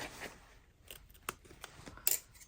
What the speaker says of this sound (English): I'm just using a really, really sharp pair of scissors to do that as effectively as possible